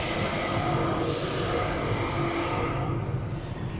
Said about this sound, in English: Let me introduce our track train,